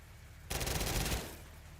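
A video game machine gun rips off a rapid, dense burst of automatic fire lasting under a second, loud and close, then cuts off and leaves a faint tail.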